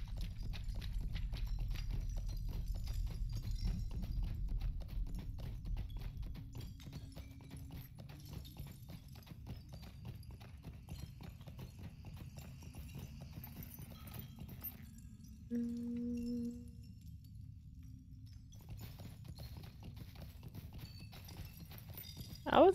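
Steady clip-clop of a horse's hooves while riding in Lord of the Rings Online, a rhythmic trot running throughout at moderate level beneath game ambience, with a brief tonal interface chime partway through.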